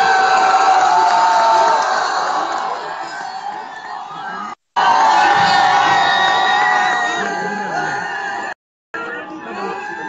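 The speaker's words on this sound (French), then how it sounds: "Est-ce qu'on peut l'applaudir, s'il vous plaît?" An audience at a talk cheers and applauds a guest, a loud sustained roar of crowd voices and whoops broken by two brief silences.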